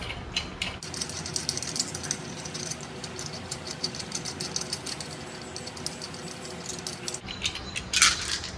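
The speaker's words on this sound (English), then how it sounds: "we're ready to take off these lug nuts" Hand-tight lug nuts being spun off a vehicle wheel while the car rests on the ground, a steady run of close metallic ratcheting and rattling with a brief clink near the end.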